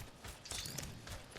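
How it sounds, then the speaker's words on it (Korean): Footsteps in Apex Legends, a quick run of soft scuffing steps at moderate distance against steady game ambience, with a few brighter clicks and rattles in the middle. "발소리"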